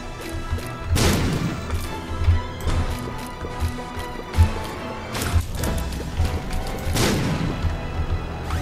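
Bombs explode in The Binding of Isaac, several loud crashing blasts spaced a few seconds apart, each with a sharp onset and rumbling decay, between them quieter thuds and steady game sounds.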